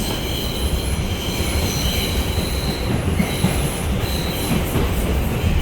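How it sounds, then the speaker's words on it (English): An NYC subway R142 express train rolls along the rails with a loud steady rumble, wheels squealing faintly in high tones throughout. "This train is going back into the yard."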